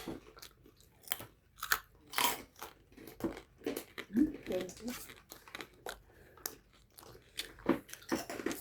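Crisp, crunchy food bitten and chewed close up in a run of sharp, irregular crunches, with people talking casually over it.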